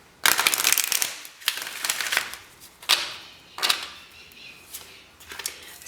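A deck of tarot cards is shuffled by hand, close and fairly soft, in a series of quick riffling bursts with short pauses between them.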